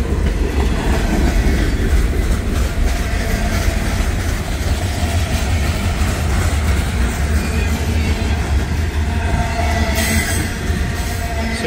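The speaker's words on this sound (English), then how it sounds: "Southern boxcar, 86 footer." A Southern 86-foot boxcar rolls past on rails close by, giving a steady, loud rumble with rhythmic wheel clatter and a short metallic squeal near the end, no talk.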